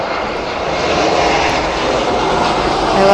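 A loud, continuous roar of an airplane passing close overhead, a steady broadband engine rumble swelling slightly toward the end.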